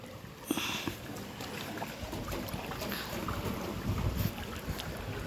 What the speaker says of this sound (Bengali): এখানে দাদা নৌকো নিয়ে যাচ্ছে